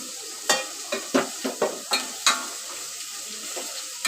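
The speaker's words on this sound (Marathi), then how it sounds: "कांदा टाकते बघा कांदा टाकते" Onion dropped into hot oil in a pan for soybean bhurji, sizzling loudly and close, with a series of sharp stirring scrapes and crackling bursts repeating roughly every half second.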